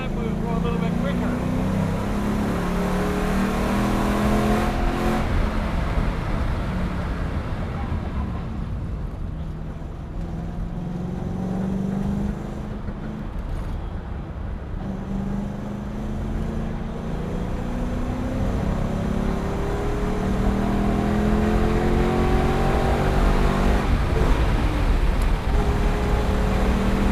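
Ford Mustang lapping Mission Raceway, its engine a loud, continuous roar heard from inside the car with rising and falling revs throughout, while people talk over it.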